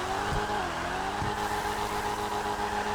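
A sports car engine in GTA 5 Online drones steadily and loud throughout, its pitch sliding slightly, with a few brief low thumps like exhaust pops.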